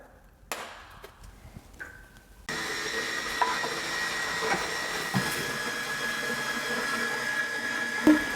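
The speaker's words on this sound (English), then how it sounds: "we're going to start by whipping our whipping cream with sugar" An electric mixer whips cream with sugar and stabilizer for a summer dessert; after a quiet moment with faint clinks, the machine switches on into a steady, close whirring drone that runs to the end, with no talking.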